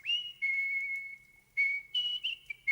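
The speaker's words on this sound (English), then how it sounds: "He sat in his palace and whistled his ruby whistle." A ruby whistle blown in several clear, shrill tones, some long and held and others short, with brief pauses between them, fairly faint and heard alone.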